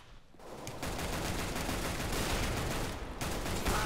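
Sustained automatic gunfire in a CS:GO deathmatch, likely from a Tec-9 pistol, a steady rapid stream of shots that starts after a brief quiet moment and runs loud and close for several seconds without speech.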